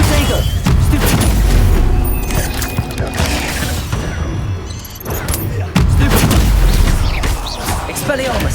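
Confringo fire-blast spells boom and crackle in a Hogwarts Legacy video game duel, repeated loud impacts among mechanical clatter, while a voice shouts spell names over the combat.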